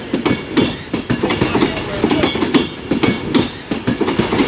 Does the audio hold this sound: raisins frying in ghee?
no